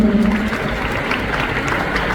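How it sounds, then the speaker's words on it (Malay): Audience applause at an Amway recognition event in Kuala Lumpur, a steady sustained clapping from a crowd filling the whole stretch, with a brief voice heard near the start. "Tepukan untuk MWay."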